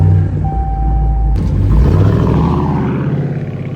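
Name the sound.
Dodge Challenger R/T Plus engine starting and running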